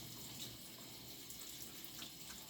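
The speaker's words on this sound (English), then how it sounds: "we're just going to turn the water on real low" Tap water running at a low, gentle flow for a puppy's bath, a soft steady hiss with no voices, faint and continuous throughout.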